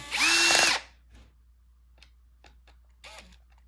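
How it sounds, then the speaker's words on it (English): A power drill on a low torque setting whirs in one short loud burst while tightening a screw into a Bissell CleanView vacuum housing, followed by faint clicks and handling noises. "using a drill, make sure you have on a torque 2 setting so you don't accidentally over torque your screw, strip a screw"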